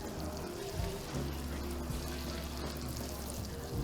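Bacon sizzles in a cooking video game, a dense, steady crackling hiss that runs unbroken throughout at a moderate level.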